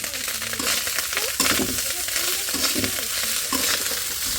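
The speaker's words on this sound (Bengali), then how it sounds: "ভাবছি তোমার জন্য সুপ রান্না করছি" Soup cooking in a pot is stirred with a spoon, steady scraping and stirring over a continuous sizzle and bubbling, close and fairly loud throughout.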